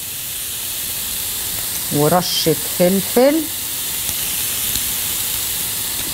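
Shrimp sizzle in a hot pan on the stove while being cooked for a shrimp Alfredo pizza, a steady, close hiss and crackle that runs throughout, with someone speaking briefly over it.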